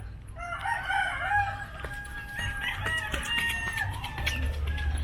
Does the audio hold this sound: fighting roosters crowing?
yes